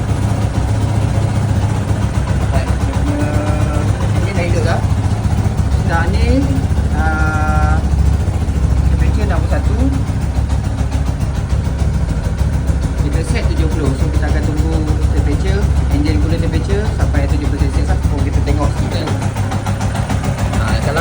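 A Yamaha Y15 motorcycle, under diagnosis for a radiator fan that will not run, idles steadily with a low, even engine hum throughout, while someone talks over it close to the microphone.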